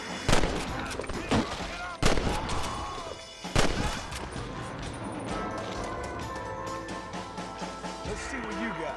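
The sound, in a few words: gunfire in the video game Red Dead Redemption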